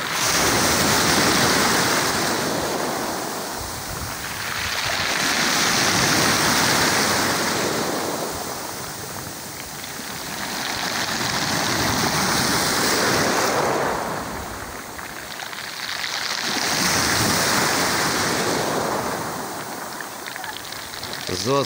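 Morning sea waves roll onto the shore at Lazarevskoye near Sochi, surging and receding in slow swells about every five seconds, loud and close with steady wind noise across the microphone.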